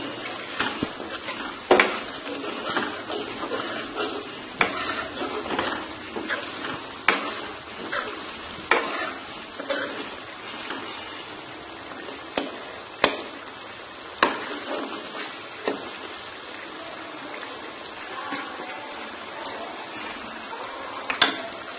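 Potatoes and fenugreek fry over a high flame with a continuous sizzle, punctuated by regular sharp clinks and scrapes of a spoon against the pan, close but moderately quiet, no voices.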